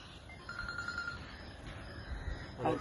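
A mobile phone rings faintly during an outdoor garden workout, a thin, distant tone that sounds briefly over low background noise.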